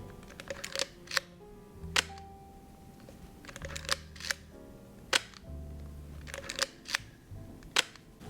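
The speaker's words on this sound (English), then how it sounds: "I'm gonna show you the advanced lever and shutter sound of all these different M cameras" A Leica M6 film camera worked by hand, its advance lever wound with a ratcheting rasp and the shutter firing in crisp, quiet clicks, repeated several times in close, intimate cycles with no talking.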